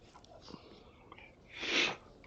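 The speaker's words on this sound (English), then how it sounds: "You got the sniffles." A single wet sniffle from someone with a cold, taken close and quiet outdoors beside a campfire; faint rustles come first, then one short, breathy inhale near the end.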